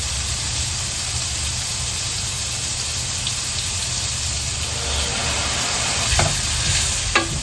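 Vegetables stir-frying in sesame oil and soy sauce sizzle loudly and steadily up close, with a few scraping stirs near the end.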